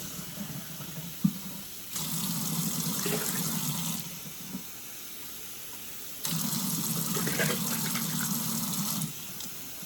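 Cold water runs from a kitchen tap into a container in two bursts of about two seconds and three seconds, a steady close splashing gush separated by a quiet pause, with faint handling noises.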